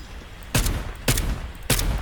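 Gunfire in the battle royale video game Farlight 84, three sharp, loud bursts of shots spaced roughly half a second apart over a steady background hum.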